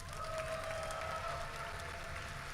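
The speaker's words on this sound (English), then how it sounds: "Let's have some applause for our participants" Applause from a small crowd fills the clip, a steady wash of clapping with a faint tonal hum running underneath.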